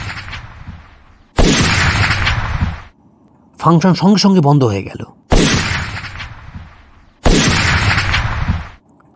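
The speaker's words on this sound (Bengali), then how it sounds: "আচমকাই ওখানে একের পর এক গুলির শব্দ হতে লাগল।" Repeated gunfire bursts ring out in a Bengali suspense story, set at a function attended by a councillor as chief guest; three long, loud, harsh volleys come one after another, with someone narrating briefly between them.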